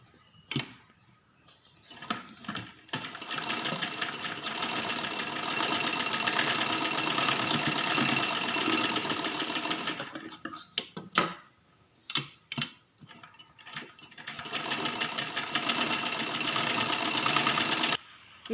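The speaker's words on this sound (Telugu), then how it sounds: "బ్యాక్ పార్ట్ కుట్టినాం కదా, కుట్టిన తర్వాత దీన్ని ఈ విధంగా జాయింట్ అనేది చేసుకోవాలి." A sewing machine stitches a girl's long frock in rapid bursts, a steady mechanical whirring rattle lasting several seconds at a time, broken by short pauses and clicks, close and without talk.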